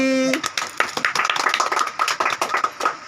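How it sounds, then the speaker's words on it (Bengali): A small family group claps right after singing happy birthday at a home celebration, quick uneven handclaps close by for about three seconds, following the tail of a sung note. "হাততালি"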